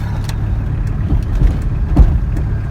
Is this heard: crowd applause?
no